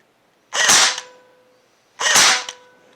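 An Evanix Speed air rifle fires two single test shots after repair, each a loud, sharp, close crack with a short decaying tail, spaced about one and a half seconds apart.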